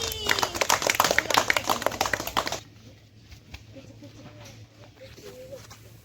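Schoolchildren in a classroom clap their hands together in a brisk burst of uneven claps for about two and a half seconds before it stops, leaving quiet room sound.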